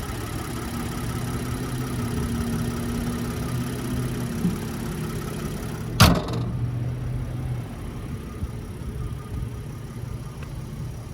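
A 2024 Nissan Frontier PRO-4X's 3.8-liter V6 idles under the raised hood with a steady low hum, interrupted midway by a single sharp thud, then continues evenly.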